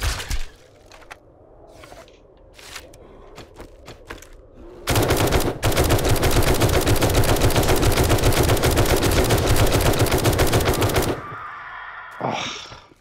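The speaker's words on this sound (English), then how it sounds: "And I shoot him so much, it's freaking killed." Sustained rapid gunfire in a survival video game as a player shoots down a bear, a dense roar of shots lasting several seconds after scattered quieter clicks and scrapes, then cutting off abruptly.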